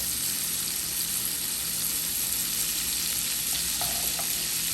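Jerk shrimp sizzle steadily in a hot pan over slightly above medium heat, a loud, unbroken crackling fry with a brief soft scrape as they are turned over.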